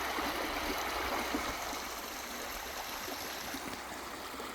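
Humbug Creek flowing in October, a steady broadband rush and babble of water, constant and moderately near, with no voices.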